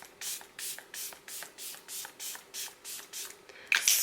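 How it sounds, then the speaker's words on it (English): Dalba First Spray Serum mists onto a face in a quick series of about ten even, hissing pump sprays, close and crisp, followed by a brief rustle. "Spray it all over your face"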